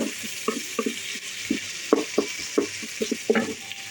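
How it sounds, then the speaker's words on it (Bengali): Garlic, onion and bay leaves sizzle steadily in a hot pan while a utensil stirs and scrapes in a quick, irregular rhythm of clicks and taps. "ভাজা"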